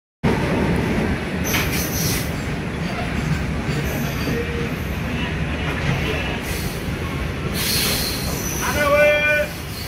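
Shalimar to Vizag passenger train running steadily on its tracks, with a continuous loud rumble of wheels, rattling carriages and faint squeals, rising briefly near the end.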